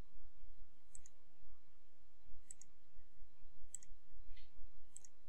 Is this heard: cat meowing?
no